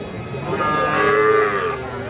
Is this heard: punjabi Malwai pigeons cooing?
no